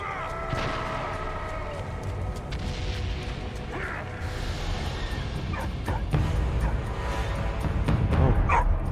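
Dog barking and yipping inside the World War I video game Valiant Hearts, a few sharp barks and whimpers over a dense layer of game music and rumbling battle effects.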